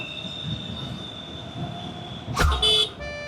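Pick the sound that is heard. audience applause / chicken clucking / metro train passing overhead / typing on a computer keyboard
metro train passing overhead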